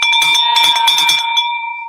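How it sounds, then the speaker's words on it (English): A handheld celebration bell rung to mark a closed real estate deal, a rapid run of bright metallic clangs with a ringing tone that rings out and fades over about two seconds, close and loud with no talk. "Get that Nathan bell."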